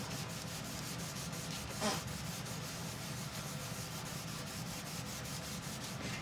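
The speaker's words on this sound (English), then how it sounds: "And I'm going to get back to removing this excess wax." Steady, close rubbing of a cloth or pad over a surface to remove excess wax before a transfer, a continuous scuffing texture with a brief louder stroke early on, and no voices.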